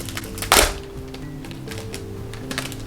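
A single sharp crackling burst of plastic packaging being torn open on a cross-stitch kit, followed by quieter rustling and faint clicks.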